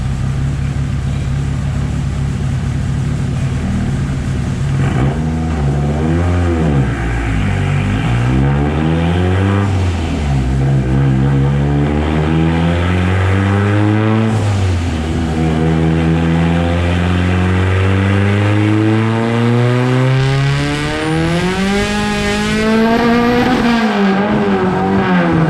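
A Mitsubishi Evo 8's turbocharged 4G64, fitted with a Precision 6266 turbo and running about 24 psi, revs hard and loud close by, pulling up and dropping back several times before one long climbing pull near the end.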